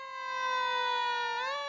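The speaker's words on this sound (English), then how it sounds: "The sirens blared out the sorrow." A wailing emergency siren from first responder vehicles in a tribute procession sounds loud and close as a single sustained tone that bends upward at the end, heard alone without voices.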